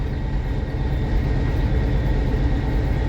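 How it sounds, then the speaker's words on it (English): A freight train hauling tank cars rumbles steadily along the line, a dense continuous low roar of wheels and engines, close and unbroken. "on a tank train"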